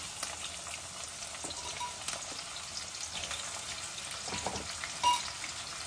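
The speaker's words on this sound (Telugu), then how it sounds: "సో మన ఆవాలు కూడా చిట్పట్టమంటున్నాయి. ఇంకా ఉల్లిపాయలు వేసేస్తాం." Onions frying in hot oil with spluttering mustard seeds for a prawn curry, a continuous close sizzle with scattered sharp pops and crackles, no talk.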